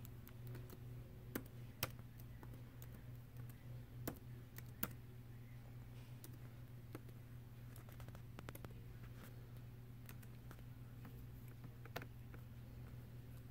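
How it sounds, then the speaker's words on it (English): Password being typed on a Dell Inspiron laptop keyboard: scattered quiet key clicks, some sharper taps, over a steady low hum, with no talking. "I'll type in the password real quick"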